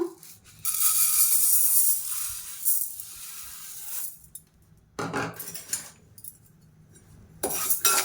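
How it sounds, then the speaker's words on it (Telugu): Moong dal dry roasting in a pan, with bursts of rattling, clinking and scraping as the lentils are tossed and stirred, separated by quieter stretches. "అరకప్పు పెసరపప్పు డ్రై రోస్ట్ చేద్దాము."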